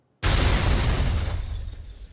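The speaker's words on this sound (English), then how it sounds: "I'm going to slide it back to more like the meat of the explosion" An explosion sample for layering under a bass drop bursts in abruptly and loudly, then rolls out as a single heavy, broadband blast with a deep rumbling tail that slowly fades, heard alone.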